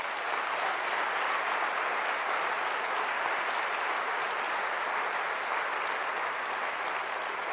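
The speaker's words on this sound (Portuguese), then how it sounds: "Se eu fosse você, aplaudir o Senhor." A church congregation at a Sunday evening worship service applauds in a steady, dense wash of clapping that holds at an even, fairly loud level throughout, with no pause or voices standing out.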